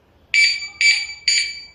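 Three loud electronic alarm chirps from a motorcycle anti-theft system, evenly spaced, each a short piercing tone, close by.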